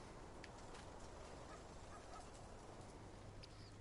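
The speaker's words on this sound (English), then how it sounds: "Hey, chickens." Chickens cluck faintly in the farming video game Farming Simulator 19, a soft, quiet fowl chatter over a low steady background with no talking.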